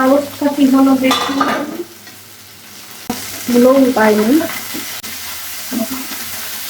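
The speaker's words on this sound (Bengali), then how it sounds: "ছোট মাছের চটচট করবো মাছগুলো ভেজে নেই" Small fish fry in a home kitchen pan with a loud, crackling sizzle. Stirring clatters through it, and the bursts rise and fall in two main waves with a quieter stretch between.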